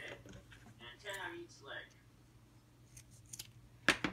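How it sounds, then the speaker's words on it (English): Scissors cut a strip of fabric for the bias hem of a jingle dress, one crisp close snip near the end after a stretch of quiet talking and light handling. "So I made another strip from the same fabric. I'm going to cut it in half."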